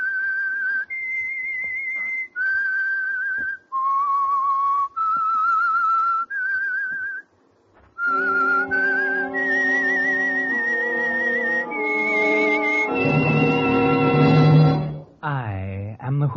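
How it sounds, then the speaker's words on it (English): The signature whistle of The Whistler radio program, sponsored by Signal Oil, is a lone human whistler carrying a slow, eerie melody in clear sustained notes. Orchestral accompaniment then joins and swells to a loud finish. "That whistle is your signal for the Signal Oil Program"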